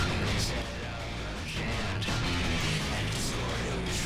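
Music pushed through Airwindows FatEQ with every band fully cranked comes out as a dense, heavily saturated, distorted wash, loud and unbroken across the whole stretch.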